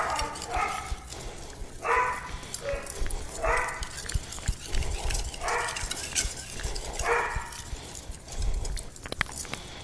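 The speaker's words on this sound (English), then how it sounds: "My dogs are about to kill each other in the other room" Two dogs in another room bark, growl and snarl in repeated harsh bursts while fighting, the noise muffled and moderately distant over a rough, noisy background.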